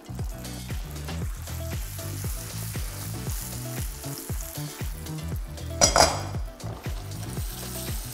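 Loud, steady sizzling as butter goes into dark amber caramel in a hot pan, with rhythmic stirring scrapes, and a brief louder hissing burst near the end.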